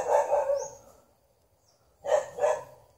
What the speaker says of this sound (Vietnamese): Trên kia có hai con chó